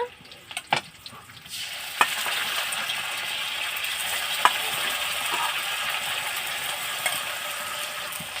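Garlic paste hits a hot pan on a clay stove, where a duck egg bhuna is being cooked. A few light clicks come first, then a loud, steady hiss of frying continues to the end, broken by occasional stirring taps.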